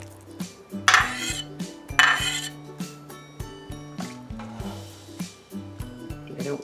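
A ladle dipping into a pot of hot chicken noodle soup, knocking and clinking against the metal rim in a run of distinct taps and scrapes, with two louder splashy scoops.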